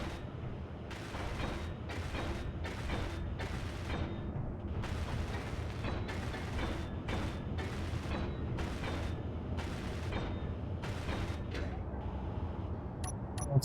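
A welding tool is used in the game Martian Engineering, giving a run of loud, harsh crackling bursts that start and stop repeatedly over a steady low mechanical drone.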